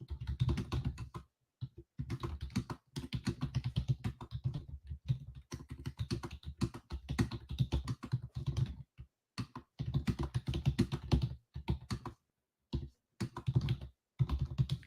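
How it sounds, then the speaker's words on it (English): Computer keyboard typing runs in quick, uneven bursts of close clicking keystrokes with short pauses between them, no voices. "So I'm typing in our group as I'm watching."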